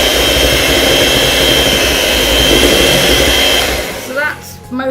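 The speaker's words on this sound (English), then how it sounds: "you plug in the whisk, and this will change colour" An electric whisk runs loud and steady through chocolate cake batter, a dense high-pitched motor whine held for about four seconds before it cuts out and a voice briefly speaks.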